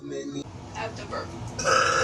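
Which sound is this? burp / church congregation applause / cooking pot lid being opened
burp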